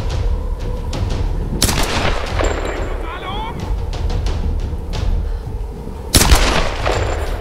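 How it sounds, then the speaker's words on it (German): Gunfire in the video game Tomb Raider, a few sharp loud shots standing out against steady game ambience and background effects. "Also die Schüsse sitzen gerade echt gut."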